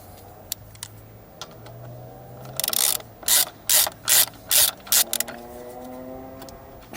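A ratchet loosens a 14 mm bolt on a Honda CB500X brake during a pad change. About six loud bursts of rapid clicking sound close by, with quiet workshop background before and after.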